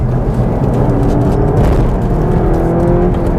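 Seat Leon Cupra with front differential pulling hard to overtake on the road, a steady loud engine drone with rising harmonic tones, close and continuous without any talk.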